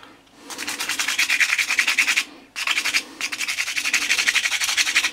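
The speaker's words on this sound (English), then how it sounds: "This is 320. It's not doing enough damage, so I'm going to probably get some 180 or something." Steady back-and-forth rubbing of 320-grit sandpaper on a resin 3D print, fast rhythmic strokes in two close, loud runs with a short pause between.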